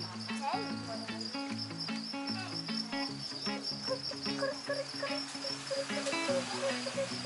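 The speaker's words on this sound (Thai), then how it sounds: "จิ้งหรีด" Dense, steady chirping of crickets at an indoor insect zoo in Chiang Mai, a shrill continuous trill layered with overlapping pulses, heard close and alone without talk.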